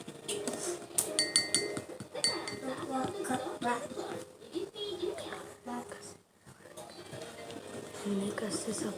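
Soap being stirred into a slime mixture in a container, with repeated clinks and scraping of a utensil against the container and a voice talking over it.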